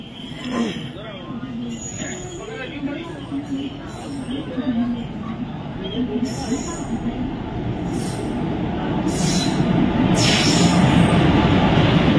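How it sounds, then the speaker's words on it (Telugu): A train rumbles steadily and grows louder as it pulls into a railway station, wheels squealing at high pitch, with people talking nearby. "మన ట్రైన్ అయితే వచ్చేసింది అనమాట"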